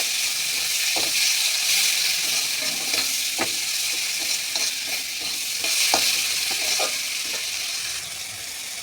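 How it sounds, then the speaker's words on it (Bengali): Turmeric-and-salt-coated prawns fry in hot oil with a continuous loud sizzle and hiss, punctuated by sharp clicks and scrapes of stirring in the pan. "চিংড়িগুলোকে ভালো করে তেলে ভেজে নেবো।"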